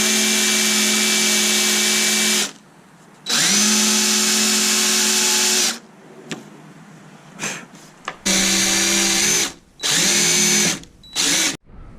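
A power drill drives wood screws into plywood on a skoolie bunk bed, loud close bursts of whining motor in several runs of about two to three seconds, separated by short pauses and brief trigger blips.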